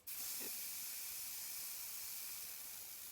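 A steady hairspray can hisses continuously for a few seconds, close and fairly loud, with no pauses; the can is faulty and stops spraying after a while.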